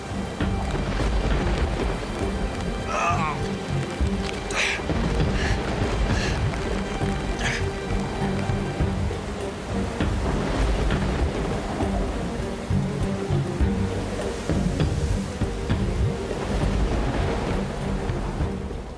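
A heavy thunderstorm pours down rain in a steady, dense roar that fills the whole stretch, with low rumbling underneath and no voices.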